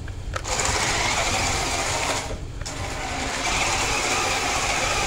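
A Jada Drift Mustang widebody RC car with turbo boost drifts nearby, a steady high-pitched whirring electric motor with tire scrub, briefly dipping twice before surging on continuously.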